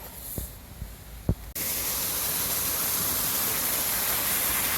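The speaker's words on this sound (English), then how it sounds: "this is a waterfall coming in, goes under the path" Steady broadband rushing of a waterfall flowing under a path in Porter Valley, Sheffield, fills the scene, starting abruptly after a second and a half of quieter ambience with a couple of brief knocks.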